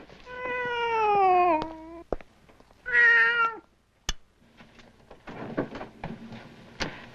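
A cat in a movie meows twice, long, loud and drawn out, followed by a sharp click and quieter household clatter and rustling.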